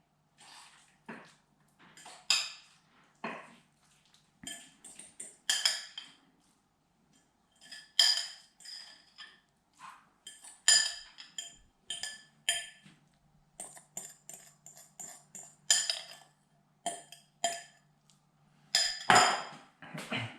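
Spoon and bowl clinks while guacamole is stirred in a bowl, a steady series of sharp, close taps and scrapes in irregular bursts, with no talking.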